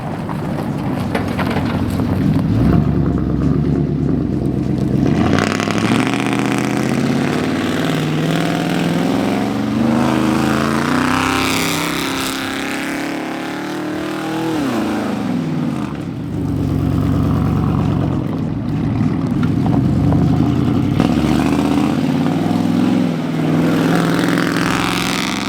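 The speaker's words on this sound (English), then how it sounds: "First time we hit mud in F-150." A Ford F-150 pickup on bald tyres with two-wheel drive churns through mud, its engine revving hard and surging with RPM jumps, loud and close with wind buffeting the microphone throughout.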